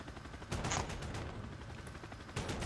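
Sustained rapid gunfire from a chopper gunner in a Modern Warfare video game, a continuous dense rattle of shots with brief swells in intensity, filling the whole stretch without a pause.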